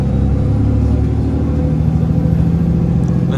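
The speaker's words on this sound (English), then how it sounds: "We are currently leaving Pearson Airport" A TTC bus pulls away from Pearson Airport in Toronto, its engine giving a steady, loud low rumble with road noise throughout and no voices.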